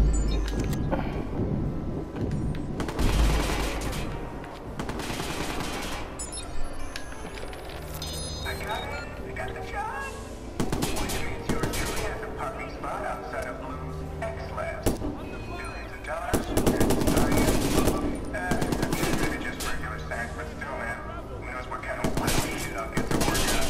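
Gunfire in the video game Watch Dogs, loud shots and impacts layered over a dense game soundtrack and effects throughout.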